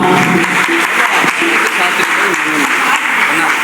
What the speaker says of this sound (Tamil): உங்கள் கரகோஷங்களுடன் அரங்கனே அதிர வேண்டாமா